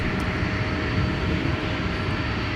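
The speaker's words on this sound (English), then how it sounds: "Looks like our charter is cleared for takeoff." A charter jet takes off from runway 12 right at Minneapolis–St. Paul airport in winter, its engines a loud, steady, unbroken roar throughout.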